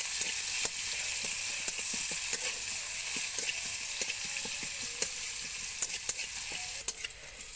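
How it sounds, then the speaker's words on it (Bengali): Chopped onions fry with five-spice and a pinch of salt in hot oil, a constant bright sizzle with frequent sharp clicks and scrapes of a spatula stirring the pan. "দেবো 1 চিমটের মতো লবণ দিয়ে পেঁয়াজগুলোকে ভালোভাবে ভাজা করে নিতে হবে।"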